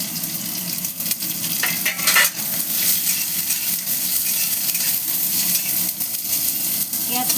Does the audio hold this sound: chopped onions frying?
yes